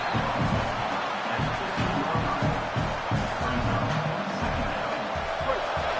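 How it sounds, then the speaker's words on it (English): A packed football stadium crowd at an Alabama vs LSU game roars in a dense, continuous wall of noise, with a commentator's voice over it. "Listen to this crowd just shaking the girders of this place, trying to help their defense."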